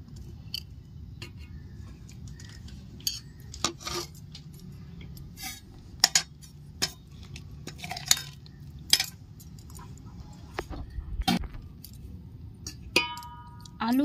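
Rice is served onto a plate with metal utensils for chicken dum biryani, giving sparse clinks and scrapes of spoon against plate at close range over a quiet room.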